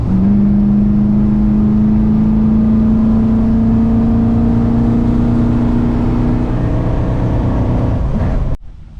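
Steady idle of a stock 454 engine in an 8,700-pound Chevrolet Suburban with a changed intake, a loud close drone with a slowly rising tone that cuts off near the end.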